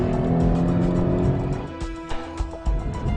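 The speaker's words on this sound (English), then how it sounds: "Now I really admire the way Hyundai's tuned the exhaust on this V6" A 2013 Hyundai Genesis Coupe V6 revs with a loud, close exhaust growl that swells at first, then breaks into a few sharp blips and burbles as the throttle is worked.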